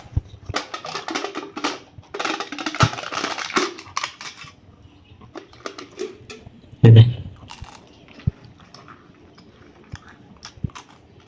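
Someone crunches and chews a packaged snack up close, with bursts of crisp bites and rustling in the first seconds, a single sharp crunch near the middle, then quieter scattered chewing sounds.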